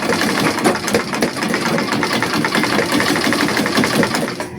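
A sewing machine runs continuously at speed, a loud rapid mechanical chatter with steady rhythmic ticking and a low motor hum throughout.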